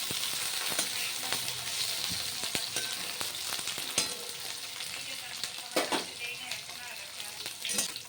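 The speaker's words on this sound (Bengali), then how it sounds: "উচ্ছেগুলো লাল লাল করে আমি ভেজে তুলে নেব।" Bitter gourd slices fry in oil with a bright, steady crackle, and frequent stirring clicks and scrapes sound close by.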